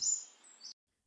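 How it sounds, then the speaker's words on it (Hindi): A single bird gives a brief, high, thin whistling call that stops abruptly, leaving silence. "क्या ये सोन चिड़िया की आवाज है?"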